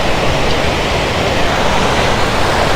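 A waterfall on Scafell Pike rushes in a dense, loud, unbroken roar of falling water, close by and steady with no other sounds.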